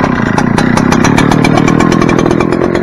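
An Echo 9010 engine runs after a repair, loud and steady, with a fast sputtering beat like a small two-stroke. It holds for the whole stretch with no talk over it.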